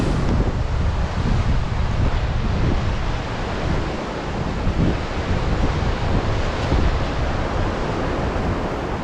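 A waterfall drops between steep rock cliffs in a Kashmir valley, a loud, continuous roaring rush of falling water mixed with wind, steady throughout with no voices.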